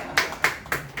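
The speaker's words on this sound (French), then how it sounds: "Vous applaudissez pour vous-même d'abord." Four sharp, evenly spaced hand claps ring out close by in an otherwise quiet room during a yoga class, each a crisp single slap rather than a sustained round of applause.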